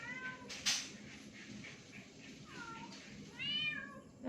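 A mother cat with her kittens meows a few times, short rising calls spaced apart and fairly faint, with a brief sharp noise early on and low background rumble.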